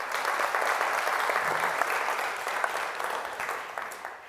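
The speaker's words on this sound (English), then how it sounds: "I think that deserves a second round of applause" A second round of applause for a guest speaker at a talk event. Dense clapping runs throughout and tapers slightly toward the end.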